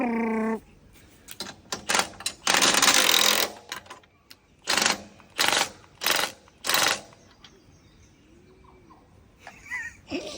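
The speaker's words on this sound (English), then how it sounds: "I got my rattle gun out." A battery-powered rattle gun impact wrench zips a part off a small aluminium tinny boat in a series of loud, rapid hammering bursts, one long and several short ones with pauses between them.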